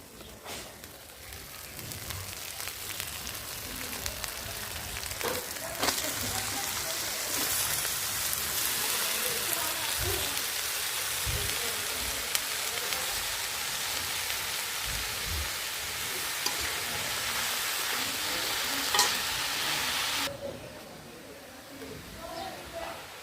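Spinach tossed into a pan of cooked-down spices fries with a loud, rain-like crackling sizzle that runs steadily before dropping off near the end, close, with occasional clinks and no talk.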